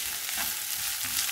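Garlic frying in a pan of browned onion, a close, continuous crackling sizzle with light stirring, steady and alone with no talk.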